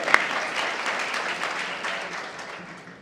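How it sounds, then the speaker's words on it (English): Audience applause at a remembrance event, a fairly quiet wash of many hands clapping that starts with one sharp clap and slowly tapers off toward the end. "Y'all give yourselves a round of applause."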